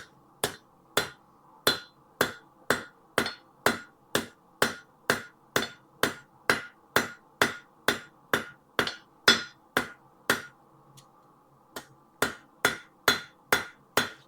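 Ball peen hammer forging a metal spoon, delivering a steady run of sharp ringing strikes, about two per second, with a brief pause before the blows resume, loud and close with no talk.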